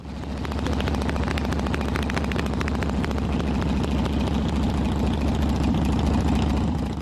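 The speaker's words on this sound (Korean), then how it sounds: "모터사이클의 배기음을 말발굽 소리로 디자인한 독특한 사례로 손꼽힙니다" A Harley-Davidson motorcycle engine rumbles loudly and steadily throughout, a deep throbbing exhaust drone with an uneven, loping, hoofbeat-like pulse and no talking.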